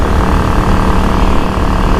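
Loud, steady engine drone with dense rumbling noise from a Yamaha XVS650 motorcycle running at speed with wind roar, continuous throughout.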